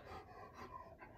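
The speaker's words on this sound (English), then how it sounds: "That's just my dog. Sorry if you hear his panting." A dog pants steadily in quick, soft breaths, close by and alone, for about a second with no talk over it.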